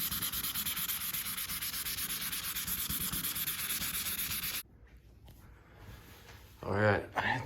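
Wet sanding with 1500 grit sandpaper on the clear coat of a BMW E36 roof, a steady close rasping scrub for several seconds that cuts off, followed by quieter handling and a short burst of voice.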